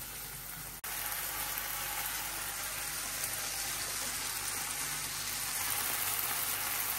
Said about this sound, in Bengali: এখন মশলাটা একটু ভালোভাবে কষিয়ে নেই